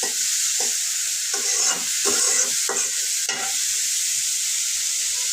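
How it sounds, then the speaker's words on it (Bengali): Dried fish (shutki) frying in hot oil, a constant bright hiss broken by a few scraping stirs in the first few seconds, close and fairly loud with no voices. "শুটকিটা আমি তেলে একটু ভেজে নিচ্ছি।"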